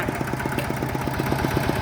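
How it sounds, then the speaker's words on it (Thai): A small farm tractor engine idles in a steady, close chugging rhythm of regular low thumps, heard on its own with no talking. "ไปไล่ไปนา ก็จะใช้รถไถ คันเล็กคันนี้แหละค่ะ"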